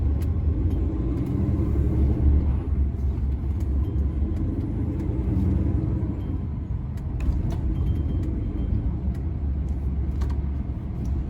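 Steady low road rumble and engine drone from inside a DAF CF truck cab on a Thursday evening approach to the Blackwall Tunnel, with passing traffic blending into a continuous, fairly loud wash.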